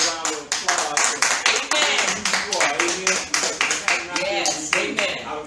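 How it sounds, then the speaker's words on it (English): A church congregation gives a round of applause, a steady run of sharp, close hand claps that continues throughout. "I want to give y'all a round of applause."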